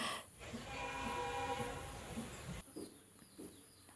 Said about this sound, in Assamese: ষ্টেচনৰ পৰা ট্ৰেইনত যাম